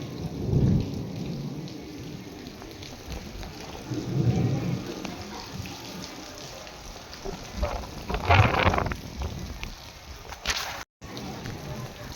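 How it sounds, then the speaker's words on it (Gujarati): Thunder rumbles and rolls repeatedly through steady rainfall in a monsoon storm, the deep booms swelling at intervals over a constant hiss of rain on surfaces, with no one talking. "કેવા કડાકા ને કડાકા વીજળીના થાય છે."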